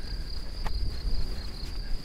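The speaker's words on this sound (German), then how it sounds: "Grillen, Zirpen oder auch was immer das ist." Crickets chirp steadily along a mountain trail on the Jura ridge walk from Balsthal to Weissenstein, a thin continuous trill with a couple of brief clicks over soft outdoor background noise.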